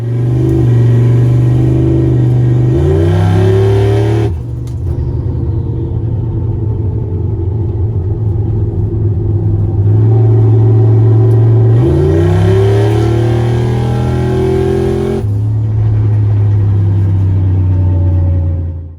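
A turbocharged car running E85 with a Holley Terminator and 4-port MAC valve boost control pulls hard down the road. The engine is loud and close, revving up through several gears with sharp drops at each shift.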